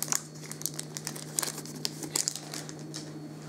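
A foil pack of hockey trading cards crinkles and tears open up close, with irregular sharp crackles and rustles over a steady low hum.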